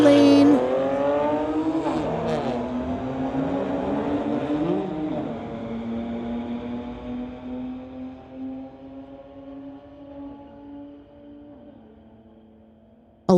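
Drag race launch of a 2020 Infiniti against a 2008 BMW 335i at a street-legal drag night: loud engines rev up and shift through rising gears, then fade steadily into the distance.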